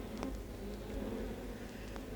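Honeybees buzz around garden hives at feeding time, a steady, dense hum with occasional louder passes of individual bees close by, continuous and without speech.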